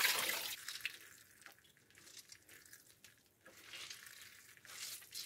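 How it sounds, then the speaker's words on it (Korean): Soaked shiitake mushrooms are squeezed over a kitchen sink, and water trickles and splashes down in a few uneven bursts that swell and fade, quiet and close, with no talk. "좀 전에 불려두었던 표고버섯도 물기를 좀 짜주겠습니다."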